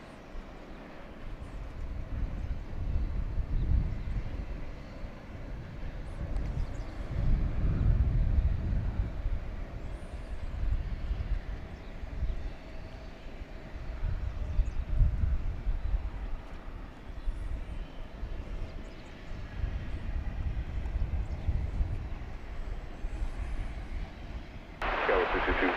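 A plane takes off quickly at DFW International Airport, its engines producing a low, swelling rumble that rises and falls in waves at moderate distance, steady throughout with faint background noise.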